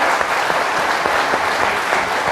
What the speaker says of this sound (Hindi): तो ये एक ताली बजनी चाहिए जोरदार